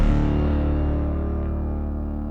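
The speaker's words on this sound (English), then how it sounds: "That has the new IFX feedback reverb attached to it." Synth tone in KORG Gadget 2 on iPad processed through the feedback reverb insert effect, a sustained, dense washy tone starting loud and slowly decaying over a couple of seconds, with no talking.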